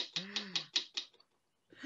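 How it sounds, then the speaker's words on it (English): A typewriter clacks in a quick run of about five sharp keystrokes that stop abruptly, followed by brief silence and a faint noise at the end. "Who's typing on a typewriter?"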